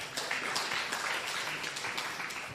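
Applause greets a nun, Sister Rosemary Ndege, joining a Capuchin live event, a steady broadband wash of clapping from a gathered audience lasting a few seconds.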